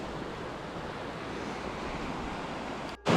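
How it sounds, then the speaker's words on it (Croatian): Near the Maričevac tunnel, a large volume of river water rushes past in a continuous, roaring broadband wash, ending in a sudden louder gust-like burst. "zato je ovolika količina vode koja trenutno ovdje prolazi"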